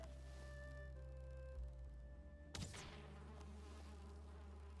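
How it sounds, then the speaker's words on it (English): Low continuous droning hum of buzzing bees in the video game Valheim, steady and fairly faint, with a brief thump partway through. "Oh, I hear bees."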